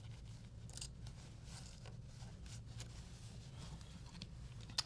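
Scissors handled during crochet sewing give faint, scattered snips and clicks over a quiet room rumble, with one sharp click near the end.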